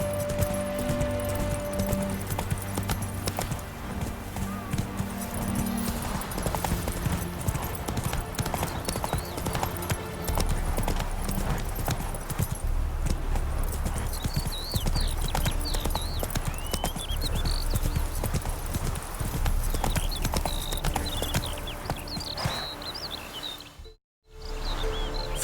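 Horse hooves gallop in The Witcher 3, a fast steady clip-clop with jangling tack under game music and ambience, while a voice briefly urges the horse on before a short drop near the end.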